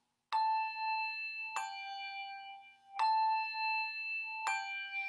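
Four clear bell strikes, evenly spaced about every one and a half seconds, each ringing with a bright sustained tone before the next.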